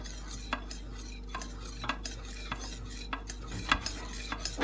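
A pudding mixture with vanilla is stirred in a pot for Cypriot dessert, a spoon scraping in soft, repeated strokes with light clinks against the pot over a steady low hum.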